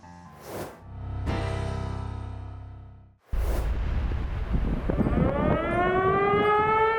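An air raid siren sounds during wartime, a loud wailing tone rising and falling, cutting off briefly and then starting again with a fresh sweeping rise.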